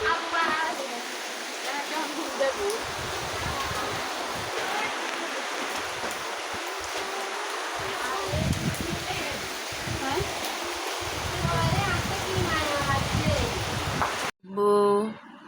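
Heavy rain falls during a storm, a dense, continuous hiss of water that keeps on steadily and close by. Voices talk over it near the end before a brief cutoff.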